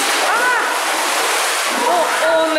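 A boy dives into a swimming pool with a loud, continuous splash and churning water, while faint voices carry over the noise.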